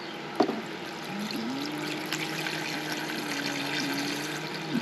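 Water is poured from a container into a houseplant pot, soaking into the dirt with a steady close trickle and gurgle after a brief knock at the start, with no talking.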